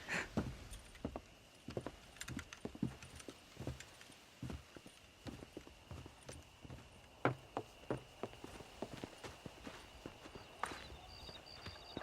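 Horse hooves clip-clopping at a walk in the Western game Red Dead Redemption, an uneven run of close, moderately loud steps with faint tack jingling, lasting about twelve seconds without speech.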